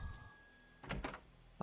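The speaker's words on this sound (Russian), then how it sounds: "Открываем дверь." A door opens in the horror video game Fatal Frame 3, with a faint hum giving way to a quick cluster of knocking and clunking thuds and one more thud at the end, quiet with no speech.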